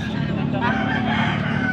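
A rooster crows at a gamecock venue in Angeles, Pampanga, a single loud close call over busy background noise and chatter.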